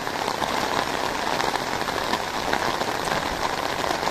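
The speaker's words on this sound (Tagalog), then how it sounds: "Grabing ulan oy." Heavy rain pours down steadily on a rural farm in the provinces, a dense, loud, continuous hiss of drops drumming on surfaces with no break and no voices.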